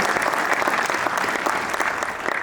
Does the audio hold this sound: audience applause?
yes